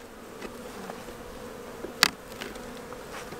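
Honey bees buzz steadily inside an opened hive after a cold winter spell, a close, even hum with a single sharp click partway through.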